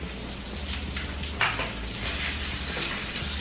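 Boiled bacon sizzles and crackles steadily in a frying pan, a close, continuous hiss of popping fat under a low background hum.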